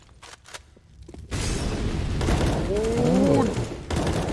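Video game gunfire, a dense rattle of shots and booms in the middle of a match, fairly faint and continuous, with a sweeping tonal effect partway through.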